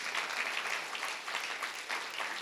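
A church congregation applauds steadily, a dense wash of clapping hands at moderate level with no break across the whole stretch.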